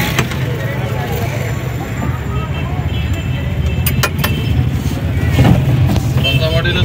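Engine of a Suzuki Ravi pickup idling steadily at a Sunday car bazaar, a low continuous rumble with brief clinks, heard under people talking nearby.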